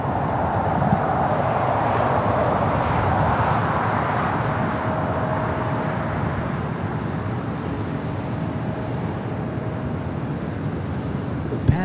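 An Airbus A350 in Panda livery arrives on the north side at LAX, a steady, broad jet roar that holds loud and continuous throughout with a faint tonal whine, blended with general airport background noise.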